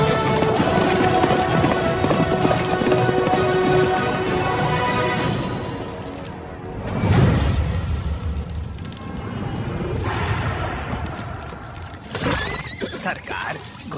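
A horse's hooves clop and the horse whinnies in a dramatic Indian period-film scene, loud and close, mixed with voices and a swelling background score.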